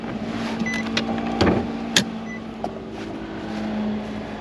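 A 1969 Lincoln car being driven at an auction lot, steady engine and road rumble close by with a few sharp clicks and knocks from the cabin.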